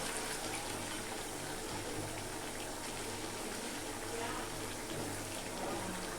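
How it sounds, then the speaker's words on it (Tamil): Lentil cooking water pours in a steady, continuous splash, loud and close, with a faint low hum underneath and no talking. "ஸோ பருப்பு தண்ணியே நான் அப்படியே ஊற்றிப்பேன்"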